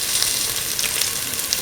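Red chillies sizzling in hot oil, a brief, close, steady crackling hiss with small pops, with no voices.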